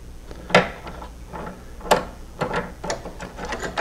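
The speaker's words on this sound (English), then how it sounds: "So we pull out the two screws" Small screws being removed from a fan mount inside a Samsung TV, a few faint scattered clicks and scraping ticks against a quiet background, close and sparse, with no talking.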